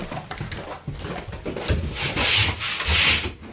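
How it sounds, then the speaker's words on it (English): The cut edge of mold-resistant bathroom drywall is rasped in quick, rough scraping strokes, close and loud, with a gritty rhythmic rasp that grows harsher toward the end. "Rasp that so it's good."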